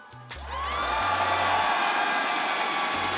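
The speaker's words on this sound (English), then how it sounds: "give it a round of applause for yourself and everybody watching from home" A large esports tournament crowd at the Six Invitational 2023 playoffs bursts into loud applause and cheering that swells quickly and holds steady, filling a large space.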